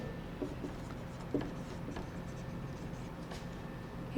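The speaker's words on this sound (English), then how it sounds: "One side we will write this." Pen or pencil writing by hand on paper during a school class, a soft, faint scratching with small taps, quiet and steady under low room noise.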